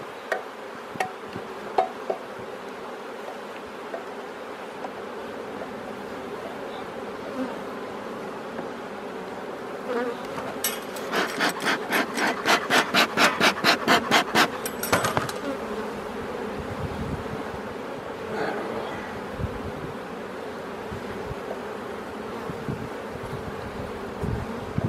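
Honey bees buzzing around an open drone hive during a beekeeping visit, a constant soft hum that swells into a dense, loud buzz near the hive midway before settling back.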